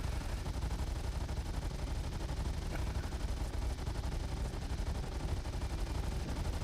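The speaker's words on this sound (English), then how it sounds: "this thing's guns are still going off" Ship guns firing in Star Citizen: a dense, continuous barrage of rapid shots at a constant level, with no pause across the whole stretch.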